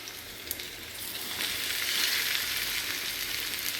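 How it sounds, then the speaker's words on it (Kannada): Nang fish, Mangalore style, frying on a hot tawa, a continuous close hiss and sizzle that grows louder midway and stays steady, with occasional light pops and no voices. "ಇದು ಕೂಡ ಫ್ರೈ ಟರ್ನ್ ಮಾಡಿ ಹಾಕಿ ಫ್ರೈ ಮಾಡ್ತಿದ್ದೀವಿ."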